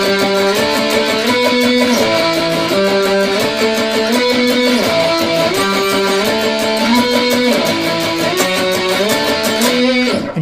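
An electric guitar plays the lead part, a continuous run of melodic notes with dense harmonics, loud and close throughout without talking.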